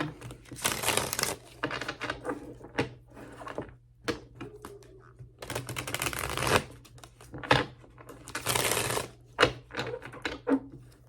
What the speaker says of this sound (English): Did just see the 5 of Wands as I was shuffling